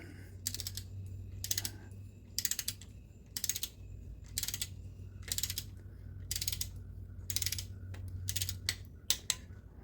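Ratchet clicking as cylinder head bolts are tightened on an L48 small block Chevy engine, about ten short bursts of rapid clicks at a steady pace, close and distinct over a low constant hum.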